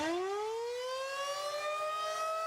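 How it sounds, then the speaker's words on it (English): A tornado warning siren wails steadily, its tone rising and holding in a long, loud, sustained note with strong harmonics and no voices. "That eerie sound of a tornado siren"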